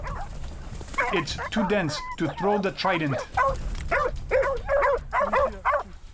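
Hunting dogs bark and yip at a wild boar during a spear hunt in the wild, mixed in beneath steady close-up narration that runs almost the whole time.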